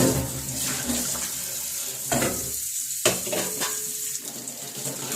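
Kitchen dishes scrubbed under a running tap, close water splashing with a few sharp knocks and clatters spread through several seconds, steady and fairly loud.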